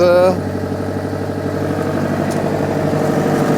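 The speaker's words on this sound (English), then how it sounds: "Clearly got a bit of an exhaust leak" A small Mitsubishi Pajero Junior engine with an exhaust leak idles steadily with a ticking, puffing exhaust rhythm, close up, after a brief higher whine at the start.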